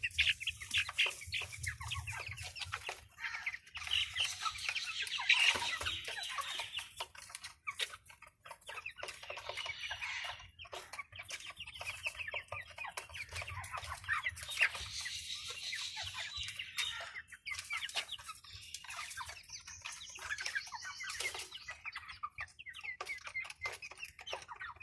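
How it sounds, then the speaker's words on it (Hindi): Australorp chickens cluck softly and steadily inside their newly built coop, with overlapping hen calls rising and falling at a moderate distance over a low background hum. "ये है जी मुर्गी ये है ये देखो"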